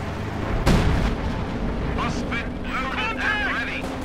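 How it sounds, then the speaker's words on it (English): Artillery fire in the Company of Heroes 2 strategy game, one loud booming blast near the start followed by rumbling, with a voice talking over the lingering battle noise. "So far the artillery seems to be flying a bit too high"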